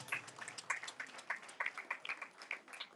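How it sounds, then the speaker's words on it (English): A small audience at a school anniversary and graduation ceremony in Akropong claps in scattered, distinct bursts, the individual hand claps clearly separated and fairly faint. "A round of applause,"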